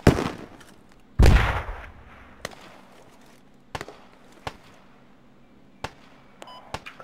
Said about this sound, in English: I'm trying to throw a frag up there.